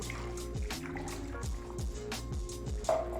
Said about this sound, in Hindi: 2 गिलास में यहाँ पे पानी का ही इसमें डाल दूंगी